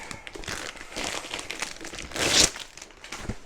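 Plastic packaging and tape crinkle and rustle as they are unwrapped by hand, a close, continuous crackling with a louder burst of tearing near the end, no voices.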